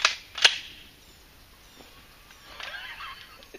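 Gun dry firing on a misfire during a hunt: two sharp metallic clicks close together at the start, followed by faint rustling and a brief higher-pitched noise, outdoors and close.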